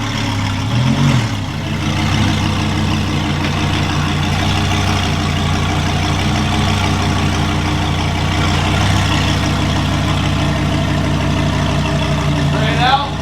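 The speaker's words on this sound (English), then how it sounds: "we cold started the R8" An Audi R8 engine idles after a cold start, holding a loud, steady low rumble close by for the whole stretch, with people talking over it.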